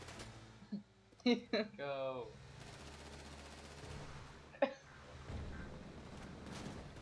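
Gunfire in GTA 5 aimed at an RV: a few short bursts of shots mixed with game sounds and a speaking voice, one sharp report standing out midway.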